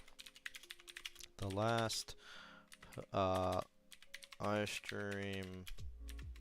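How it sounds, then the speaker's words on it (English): Computer keyboard typing at a home gaming setup, soft rapid key clicks running lightly underneath a voice talking through most of the stretch. "Sorry, I was just typing off screen."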